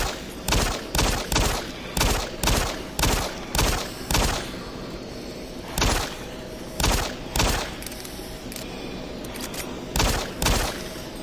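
Pistol fire in the shooter game Doom 3: about fifteen loud, sharp shots in a steady rhythm, roughly two per second, with short pauses between bursts and no talking.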